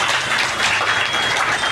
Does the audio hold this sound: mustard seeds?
no